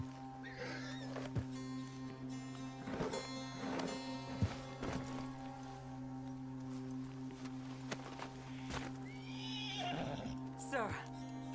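A horse neighs and whinnies in Red Dead Redemption 2, several loud whinnies rising over a steady humming background, with a voice in between.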